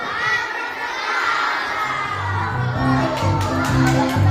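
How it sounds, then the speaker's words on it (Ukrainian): Children at a school charity show in a Ukrainian lyceum shout a magic word together, a loud crowd of young voices cheering over a noisy hall, with music or tones coming in toward the end. "Хто є в хаті, хай кричить чарівне слово."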